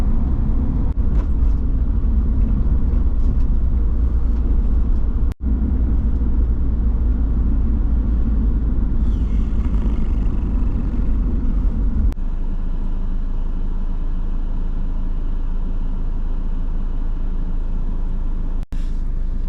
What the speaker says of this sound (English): I'm stuck in traffic